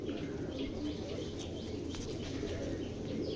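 A silver Afsan grizzle hen pigeon coos softly, low and steady beneath a constant background hiss, with no clear pauses.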